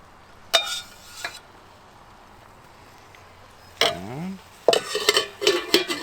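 Pasta goes into a stainless steel pan of simmering beer sauce with shrimp, giving a few sharp metallic clinks and scrapes separated by quiet gaps, then a busier flurry of stirring and clatter at the end.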